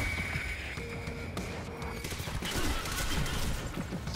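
Gunfire rattles in Quantum Break, a dense burst of shots and impacts at moderate loudness amid other game sounds, with no clear talk.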